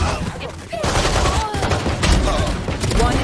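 Rifle fire from a high school esports video game match, dense bursts of rapid gunshots running continuously near and loud under commentator talk.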